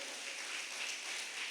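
A church congregation at a Catholic retreat claps together in a brief, dense burst of many hands, steady and fairly loud throughout.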